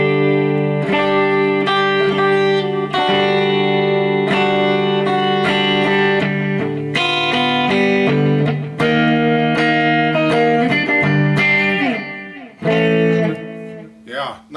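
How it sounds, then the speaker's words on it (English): An electric guitar plays ringing chords with a lightly gritty tone, notes trailing off with echoing repeats and a spacious wash. "now we have a little bit of delay and reverb on there."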